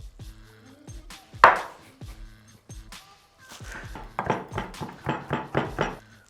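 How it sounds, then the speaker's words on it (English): A knife chopping porcini mushrooms on a cutting board for a vegetarian shepherd's pie, with scattered taps and then a quick steady run of close chops, plus a clatter of kitchenware. "So I'm going to chop them up and then add them back into the mix."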